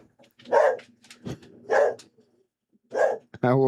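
A dog barks three times, loud and close, with pauses between the barks, followed by a brief burst of another sound at the end.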